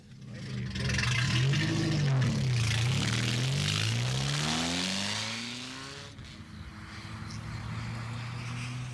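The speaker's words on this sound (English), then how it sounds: "Finally, I found first gear and off we went." A racing car pulls away in first gear on a test circuit, its engine loud and close as it revs up and holds a rising tone before easing back to a steady drone.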